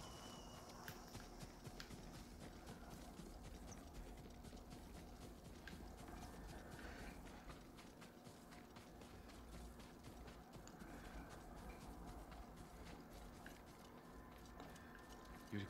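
Horse hooves clip-clop steadily in the video game Ghost of Tsushima, a continuous walking rhythm set low beneath a dense bed of game ambience and music.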